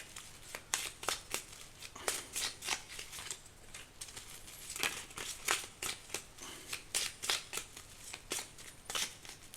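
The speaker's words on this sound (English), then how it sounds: "So the cards are flying." Tarot cards being shuffled by hand, a run of quick papery riffs and flicks repeating in uneven bursts, close and fairly quiet, with no talk.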